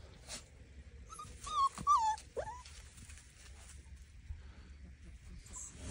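A four-week-old Great Pyrenees puppy whimpers in a few short, high, wavering cries close by, then falls quiet against low background noise.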